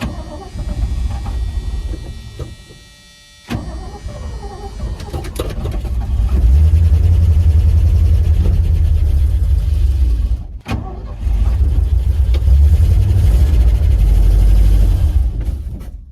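An old Ford F-100 truck that sat for over 20 years runs its engine and rolls, a steady low rumble that swells after a brief dip and stays loud and close, with one short cut near the end.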